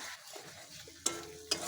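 Spices, peas and green chili frying in a pan, heard as a faint soft sizzle with two sharp stirring clinks near the end.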